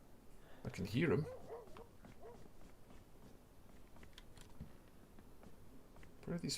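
Dogs in the DayZ video game give a burst of barks and whimpers early on, then scattered fainter yips, with another short round of barking at the end over a low background.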